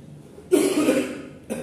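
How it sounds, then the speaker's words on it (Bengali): A single short cough bursts out loudly, followed moments later by a second softer cough, in an otherwise quiet room during a lecture. "কাশি আসছে কেন বারবার?"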